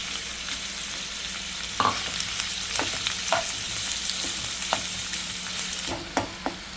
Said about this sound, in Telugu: నూనె వేయండి అమ్మ అల్లం ముక్కలు వేసుకున్నాము వేపుదాం